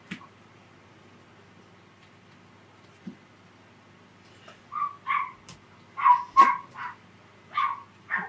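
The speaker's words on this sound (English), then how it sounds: "So somebody's dog is out there. My dog's being good. She's not barking back. A yippy dog. Yip, yip, yip." A small yippy dog barks outside near a nature path, heard at a distance through a window as scattered bursts of sharp yips, quiet at first and then in clustered volleys toward the end.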